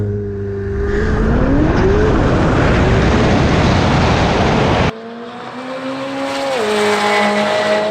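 A McLaren 720S launching down a drag strip, its engine roaring loudly and rising in pitch through the gears, with a brief break at a shift before the note climbs again as the car pulls away.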